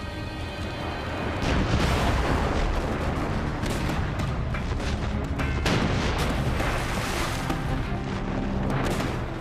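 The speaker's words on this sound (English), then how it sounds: "The batteries opened fire." Artillery batteries firing a night barrage at a river fleet on the Mississippi, with heavy booms and rumbling blasts following one another continuously, loud and dense throughout.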